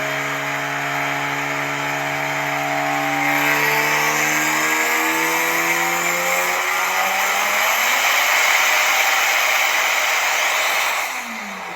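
A turbocharged drift car engine revs hard and loud, its pitch climbing through sweeping gear-like rises, then holding a high wail before cutting off near the end.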